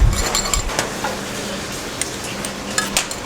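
Sliced chili and fried aubergine mixed together in a pan, with soft stirring scrapes, light clinks of a utensil against metal and a faint sizzle, close and without voices.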